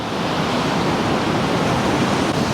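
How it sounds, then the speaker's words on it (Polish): Huge waves break on the coast at Leuca in southern Italy, a steady, loud roar of churning surf and spray filling the short stretch without any talking. "Patrzcie na te fale teraz"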